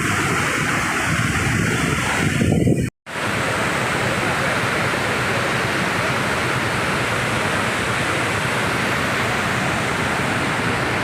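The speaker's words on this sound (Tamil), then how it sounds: "இங்கே கீழே ஒரு காட்டாறு ஓடிக்கிட்டு இருக்கு." A rushing forest stream and waterfall spray in a jungle with tigers and elephants make a loud, steady broadband roar that cuts out for a moment near the three-second mark, then resumes unbroken.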